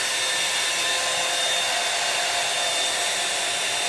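A handheld hair dryer blows steadily at close range during a hair wash and dry, a constant loud airy whoosh with a faint high whine, unchanging throughout.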